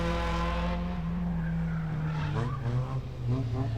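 Race car engines on an autocross course roar at high revs with tires squealing, the pitch rising and dipping as the cars accelerate down the home stretch, loud and close.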